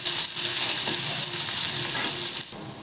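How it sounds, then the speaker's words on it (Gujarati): Grated garlic sautéing in oil alongside cumin and asafoetida for a Gujarati brinjal curry, a close steady sizzle and crackle with a brief stir, easing slightly at the end. "લસણને આપણે થોડું સાતળી લઈશું"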